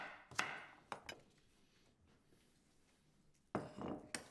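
Carrots cut into large chunks with a knife on a board for veal stock, a few quiet separate chops with pauses between them.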